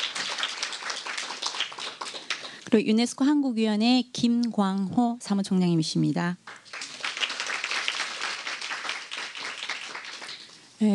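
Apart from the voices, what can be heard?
audience applause for introduced guests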